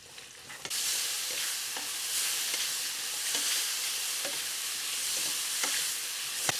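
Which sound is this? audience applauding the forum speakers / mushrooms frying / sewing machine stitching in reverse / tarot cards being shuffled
mushrooms frying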